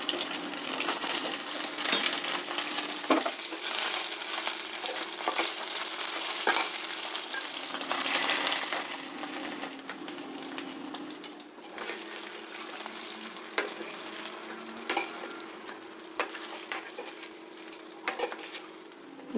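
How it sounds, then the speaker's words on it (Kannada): Poha-rava balls are dropped one by one into a hot tempering of urad dal, chana dal and curry leaves, a continuous loud sizzle with spoon scrapes and light clinks as they are stirred in the pan. "ಇವಾಗ ಒಂದೊಂದೇ ಉಂಡೆಗಳನ್ನು ಒಗ್ಗರಣೆನಲ್ಲಿ ಹಾಕೋಣ"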